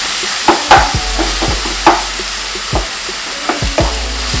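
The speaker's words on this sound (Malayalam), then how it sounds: "നല്ലപോലെ മിക്സ് ചെയ്തതിൻ്റെ പച്ചമണം മാറുന്ന പോലെ നല്ലപോലെ സോട്ട് ചെയ്തെടുക്കുക." Ginger and green chilli paste sautéed with chopped onions in a pan for chicken biryani: a continuous sizzle broken by several sharp spoon scrapes and knocks at an uneven rhythm, with no talking.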